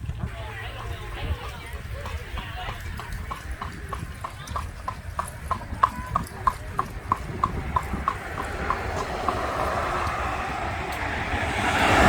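Hooves of a horse pulling an Amish buggy clip-clop in a steady rhythm in Lancaster, Pennsylvania, close and clear, while people talk now and then and a breeze or traffic rushes behind.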